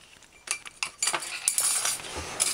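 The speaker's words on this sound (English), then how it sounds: "So just stir the flour in properly, like you see me do, like you see me doing." A spoon stirs peanut porridge with flour paste in a pot, making quick irregular metallic clinks and scrapes against the pot's side, close and fairly loud, with no voices.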